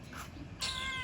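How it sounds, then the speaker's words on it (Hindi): A cat gives a single short, clear meow up close, rising sharply in the second half of the moment over faint background noise. "ये हैदर भाई का प्यार चल रहा है भाई बिल्लियों के साथ"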